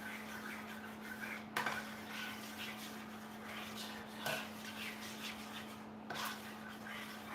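A spoon stirring apple butter and chili sauce together for a fall party appetizer, faint scraping and clinking against the dish over a steady electrical hum, with a few sharper knocks and no talking.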